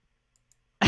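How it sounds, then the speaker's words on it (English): A single loud, sharp mouse click on a button on the Gatherer card-database website, landing near the end after near silence. "I'm just clicking the give me a random card on Gatherer right now."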